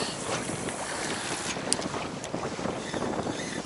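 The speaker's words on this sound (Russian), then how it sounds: "Опять ветер сильнее стал." Strong wind roars steadily over open water while fishing, buffeting the microphone with a constant rushing noise and faint splashing underneath.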